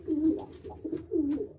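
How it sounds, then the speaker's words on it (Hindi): Siraji pigeon, a domestic fancy breed held in hand, cooing in soft, throaty rolling phrases, close and clear with no talk over it. "ये देखिए सिराजी कबूतर"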